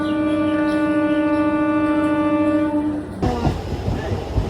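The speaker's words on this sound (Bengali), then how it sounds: "তো ফাইনালি আমরা ট্রেন পেয়ে গেছি।" A train pulls in with a long, loud horn blast held steady for about three seconds, then cuts off into rumbling, clattering wheels and carriage noise close by.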